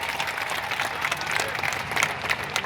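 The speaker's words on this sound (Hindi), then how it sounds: "एक जोरदार तालियां होनी चाहिए।" Vigorous audience applause honoring a founder at a ceremony, thick continuous clapping from a crowd with a few sharper claps standing out, fairly close and loud.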